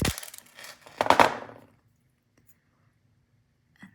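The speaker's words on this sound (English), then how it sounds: "So you just want to cut this on one side of the loop." Wire loop for shell earrings snipped with a cutter: a short, close metallic clip and rattle in the first second and a half, then near silence with a faint tick at the end.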